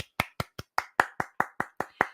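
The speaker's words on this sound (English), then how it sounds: "Can everybody just give a round of applause?" A single pair of hands claps about eleven times in a brisk, steady rhythm. The sharp, close claps are heard alone with silence between them.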